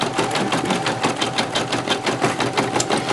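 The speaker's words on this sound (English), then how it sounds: "So there it's stitching out." A Brother embroidery machine stitching out a marine vinyl keyfob, its needle hammering in a fast, steady mechanical rhythm close by.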